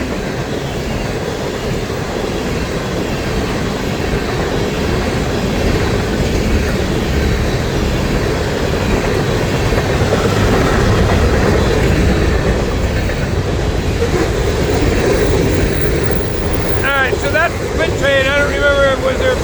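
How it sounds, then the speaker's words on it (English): A local freight train of the Florida East Coast Railway rumbles through a road crossing at Old St. Augustine Road in Bayard. Its loud, steady roar of wheels and cars fills the whole stretch. "The Bayard local coming through the crossing here at Old St. Augustine Road."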